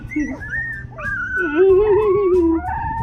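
A hungry newborn puppy whimpers for milk, giving thin, wavering whines that rise and fall in pitch, close and continuous, with one long drawn-out cry in the middle.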